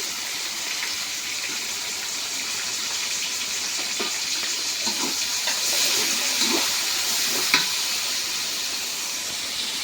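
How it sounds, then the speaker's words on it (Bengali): Chopped onion and green chillies sizzle in hot oil in a home kitchen, a steady bright hiss with occasional crackles and stirring scrapes, continuous and fairly close, with no one talking. "এই তেলে যে পেঁয়াজ কাঁচামরিচ দিয়ে দিলাম"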